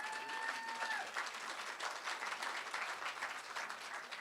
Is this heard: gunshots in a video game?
no